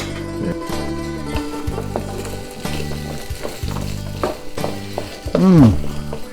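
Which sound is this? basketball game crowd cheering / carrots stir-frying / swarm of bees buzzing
carrots stir-frying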